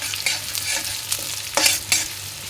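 Whole cumin seeds and onion fry in a hot pan, a close, crackling sizzle broken by a few louder bursts of spattering as the food is stirred and moved around.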